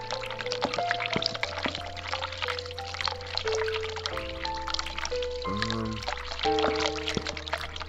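Water runs steadily from a tap in the horror adventure game The Cat Lady, a continuous pouring wash under sustained tonal game music.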